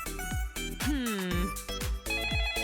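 A synthetic telephone ring repeats in short bursts in Toca Life World, mixed with game-like electronic sound effects and a swooping tone.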